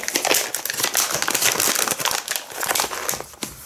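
A plastic package of raw pistachios is torn and crinkled open by hand: dense, close, irregular crackling and rustling plastic that continues without pause.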